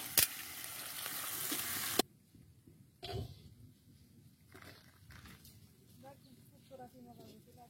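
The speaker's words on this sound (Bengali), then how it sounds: "পেঁয়াজ আমরা ততক্ষণ পর্যন্ত ভেজে নেব যতক্ষণ পর্যন্ত বাদামি কালারটা না আসবে" Chopped onions sizzle and fry in hot oil in a pan for a Bengali hilsa pulao, a loud burst of frying for the first two seconds, then quieter crackling and a few clinks, with faint voices in the background.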